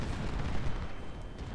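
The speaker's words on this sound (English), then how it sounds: "Loomis is about to get off a huge volley" Musket volley gunfire in the Civil War strategy game Ultimate General, a dense, rumbling crackle of many shots blending into one low, distant-sounding roll over a brief span.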